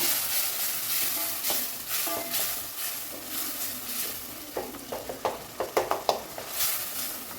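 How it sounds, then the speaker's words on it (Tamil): Tomatoes sautéing in a pan for drumstick sambar, giving a soft continuous sizzle with a run of clattering spoon stirs near the end. "இந்த தக்காளி நல்லா வதக்கலாங்க"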